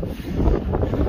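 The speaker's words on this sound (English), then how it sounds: "Wow, it's a bit windy." Steady coastal wind at Betty's Bay buffeting a microphone, a low rumbling roar that swells slightly and holds through the moment.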